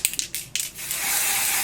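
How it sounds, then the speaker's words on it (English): An Ebin aerosol can sprays medium brown tint onto wig lace: a few short hissing puffs, then one long, steady, close spray. "Then I go back and I spray the darker shade,"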